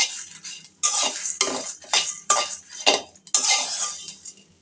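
Spices for chotpoti masala dry-roasted in a wok, heard as repeated close, bright scraping and stirring strokes of a metal spatula against the pan in uneven bursts, with faint sizzling between them.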